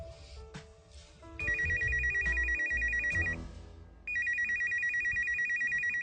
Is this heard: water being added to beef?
no